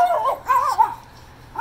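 A dog yips and whines in a few short, high-pitched bursts close by, then falls quiet before one more cry starts.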